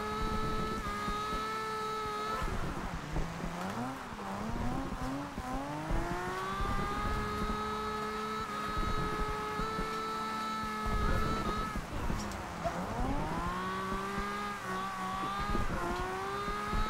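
A 1969 Nissan Fairlady Z drifts in the racing game Forza Horizon 2, its engine revving steadily with rising and falling pitch as it slides through corners, loud and continuous throughout with no talk.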